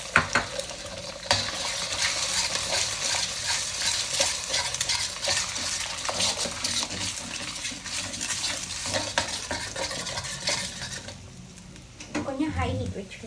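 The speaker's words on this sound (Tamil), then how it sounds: "இப்போ இந்த மாதிரி முட்டை பொரிச்சுக்கணும்." Eggs fry in oil in a pan with a steady sizzle, broken by frequent scraping and clinking as a utensil stirs them, while a person talks over the cooking.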